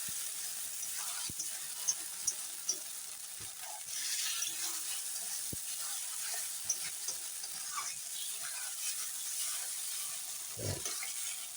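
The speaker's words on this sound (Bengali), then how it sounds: "মশলা দিয়ে এখন ভালো করে কষিয়ে নেব আলুগুলো দিয়ে দিই" Potatoes fry with spices in a pan for a Bengali rohu fish head dish, giving a soft, steady sizzle with occasional light clinks and stirring scrapes, and no talking.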